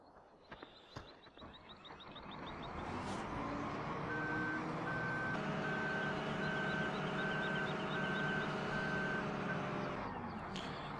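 A truck in Farming Simulator 2015, on the Bjornholm map, reverses with evenly spaced beeps that repeat over a steady low engine drone.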